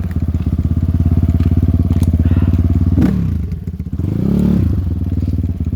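Kovi Lite 300 motorcycle engine revving hard in second gear off-road as the rear wheel spins, a loud steady pulsing drone that dips once mid-way with a thud and clatter, then surges back up.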